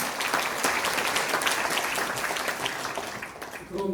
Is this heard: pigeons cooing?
no